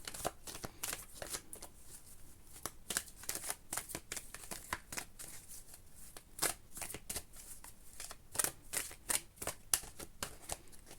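A deck of angel cards is shuffled by hand, giving quick, close riffling flutters and soft slaps that repeat in uneven bursts against a quiet room.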